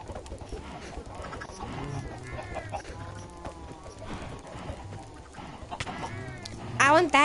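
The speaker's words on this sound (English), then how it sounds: "I want that chicken. I want to kill that chicken." Chickens clucking in Minecraft, a run of repeated clucks and soft bird calls over a busy game background, growing louder with a sharp squawk near the end.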